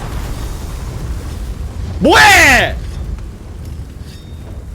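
A cannon fired in Monster Hunter during a Fatalis battle: one loud booming blast with a sweeping whoosh that lasts about a second, standing out over continuous game background noise, with a player's voice briefly heard.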